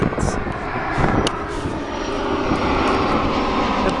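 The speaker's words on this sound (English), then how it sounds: "The planes have their invisibility cloak on, so I can't see them." Airplanes fly overhead unseen outdoors, a loud steady engine drone that swells slightly as they pass, with faint breathing or movement noise near the microphone.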